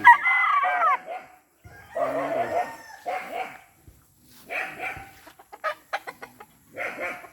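Gamefowl roosters crow in a small backyard coop, including a lemon Boston rooster; a loud close crow opens, followed by clucking, a dog's barks and more crowing.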